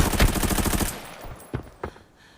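Rapid automatic gunfire from a gun in the shooter Arena Breakout, a dense close burst of shots that cuts off, followed by two single distant cracks.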